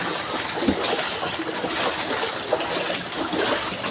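Water splashes and churns continuously as someone wades through deep flood water in a Metro Manila street, with scattered sloshing bursts and faint voices in the background.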